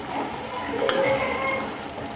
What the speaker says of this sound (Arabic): نخلطو مزيان مزيان ونخليوها طيب